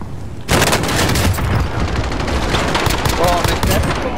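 Rapid bursts of gunfire crackle through a battle royale video game firefight, loud and dense after a quiet start, with repeated sharp shots continuing throughout and a voice speaking over the shooting.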